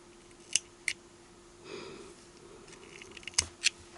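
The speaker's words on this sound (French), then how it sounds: "Vous prenez votre ciseau. Et vous allez couper votre fil." A few crisp snips of scissors cutting crochet yarn, two quick clicks early and two more near the end, close and quiet with a soft rustle of handling between them.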